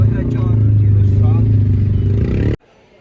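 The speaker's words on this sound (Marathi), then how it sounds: "आधी ट्रॅफिक बघा. हे ट्रॅफिक आहे." Idling and creeping vehicles in a road traffic jam on the way to Gaurikund hum steadily with a low engine drone and clatter, voices talking over it, before the sound cuts off abruptly near the end.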